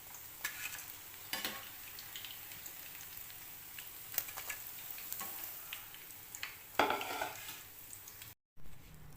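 Bread pockets deep-frying in oil, a faint crackling sizzle broken by metallic strainer scrapes and clinks as a batch is lifted out, with a brief silent gap near the end.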